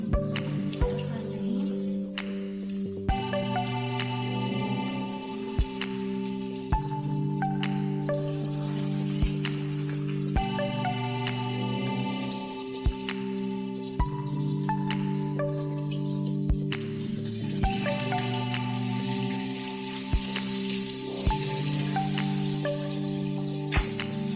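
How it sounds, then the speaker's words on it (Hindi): Chicken drumsticks frying in hot oil produce a steady, crackling sizzle with scattered pops that runs throughout, over a constant tonal background. "तो तेल हमारा गर्म हो चुका है। अब मैं 1 बाय 1 स्टिक डालना शुरू कर दूंगी।"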